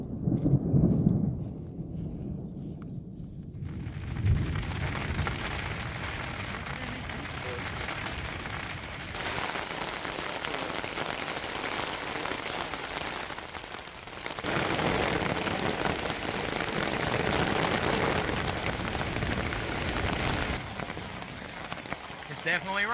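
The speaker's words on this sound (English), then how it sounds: "It's definitely raining." Rain drums on a tarp shelter at a riverside camp during a thunderstorm, a steady close patter that swells louder in stretches, with low rumbles of thunder, some nearby rustling and brief murmurs of voices.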